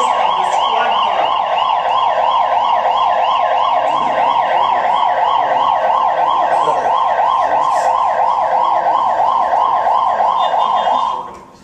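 A police squad car siren at a traffic incident scene wails loud and close in a fast, continuous rising-and-falling cycle for about eleven seconds, then cuts off abruptly.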